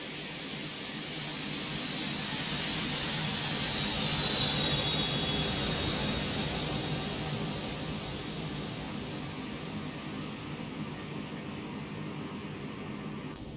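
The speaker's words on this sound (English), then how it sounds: "the Hawker 125 edition of the flyby" A Hawker 125 business jet passes in a simulated flyby, a broad steady roar that swells toward the middle and slowly fades, with a thin whining tone briefly rising above the hiss.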